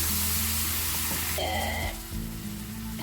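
Pureed tomato hits a hot pan for a chickpea curry, letting out a loud hissing sizzle that swells midway and then settles into steady frying under a low kitchen hum.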